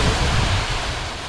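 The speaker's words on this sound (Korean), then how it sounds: "여기가 사랑산의 용추폭포예요." Yongchu waterfall on Sarangsan mountain in Goesan, a summer mountain valley setting, gives a steady broadband rush of falling water, loud and continuous with no voices.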